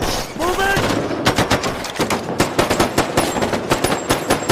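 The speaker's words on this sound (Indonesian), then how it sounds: "salah satu anak buah Nick berhasil menembak Lee Fox yang saat itu lagi berlari" Rapid machine-gun fire in an action film, loud bursts of sharp repeated shots crackling in quick rhythm, preceded by a brief tonal sound.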